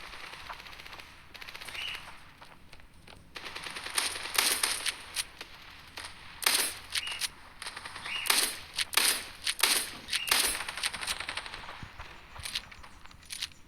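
A machine gun fires in the Standoff 2 mobile shooter game, sharp bursts and single shots in irregular clusters, loud and close, over faint background game ambience.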